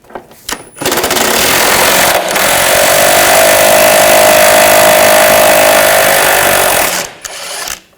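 A power tool fitted with a 15mm socket loosens bolts under a 2013-2019 Ford Escape, a loud continuous buzzing whir lasting about six seconds with brief bursts at start and end.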